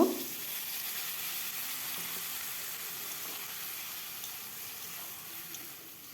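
Spice paste simmering in a pan after a splash of water for a pointed gourd curry, a soft continuous sizzle and hiss, fairly quiet and steady, with a brief bump at the start.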